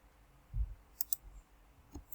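A few quiet, crisp computer mouse clicks, two in quick succession and then one more, sound in a near-silent room.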